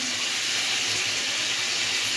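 A small splash of water poured into a pan of curry with spices and tomatoes gives a continuous hissing, rushing sound, steady and close for a couple of seconds, with no voices.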